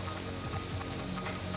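Heavy rain pours in the Katraj and Ambegaon areas of Pune, a dense, steady hiss of falling water that stays even and faint throughout with no voices.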